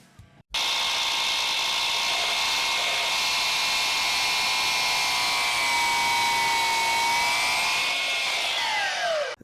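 A Milwaukee M18 Fuel 12-inch cordless miter saw bites into MDF with a dust vacuum attached, a loud steady high whine running nearly the whole stretch after a short quiet start, pitch sagging as the cut finishes.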